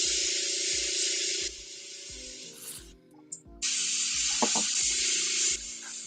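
An airbrush sprays paint onto an action figure in hissing bursts, loud close jets of air that stop briefly mid-way and resume, with a faint rhythmic compressor thump underneath.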